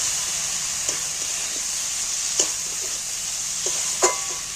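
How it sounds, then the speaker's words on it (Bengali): Masoor dal and spices sizzle while being stir-fried in a pan: a steady, bright hiss of frying with a few soft scraping stir clicks, and no talking. "এবার ডাল আর মশলা একসাথে কষিয়ে নিচ্ছি।"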